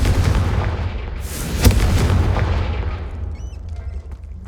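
A Confringo fire spell bursts in Hogwarts Legacy: one sharp explosive crack lands over a loud, dense rumble of in-game combat, then the roar slowly thins out.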